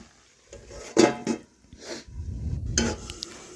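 A metal lid is set over a cooking pot of aubergine and potato with water: a few close clattering metal knocks and scrapes, one sharper clank near the end, over quiet kitchen background.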